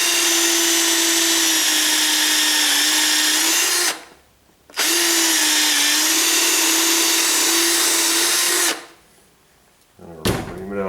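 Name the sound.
electric drill drilling a hole with 5/16 inch bit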